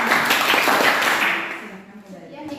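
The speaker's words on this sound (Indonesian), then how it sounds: "Tepuk tangan." A classroom group claps at the end of a school lesson presentation, a short burst of applause that fades after a second or so, mixed with voices.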